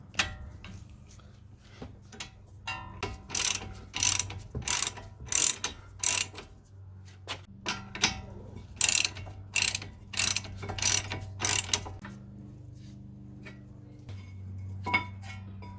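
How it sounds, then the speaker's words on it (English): Ratcheting clicks and metallic clanks from a 17mm socket on a breaker bar working loose tight brake caliper bracket bolts, in repeated bursts of loud pawl clicking separated by short pauses, with a low steady hum underneath. "I'm also going to have to use the breaker bar because they are really tight"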